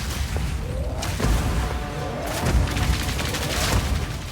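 Repeated heavy booms and crashing slams from the Path of Exile 2 lava rock boss Rattlecage, the Earthbreaker, dense and rumbling with several loud impacts.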